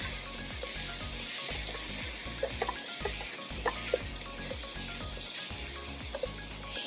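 Vegetables stirred into a butter and flour roux for lobster étouffée, a loud sizzle under repeated scraping spoon strokes in a steady rhythm, with a few sharper crackles midway.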